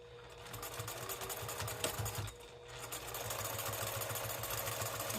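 A sewing machine stitches along the sides of a cork fabric pouch at an eighth inch seam, making a steady, close mechanical whirr and rapid needle clatter with a brief pause midway.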